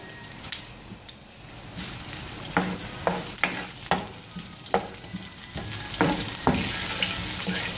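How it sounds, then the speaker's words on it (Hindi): Oil sizzling steadily in a pan with garlic and cumin frying, punctuated by repeated sharp scraping and stirring clicks; no talking. "इसको भून लेंगे अच्छे तरीके से"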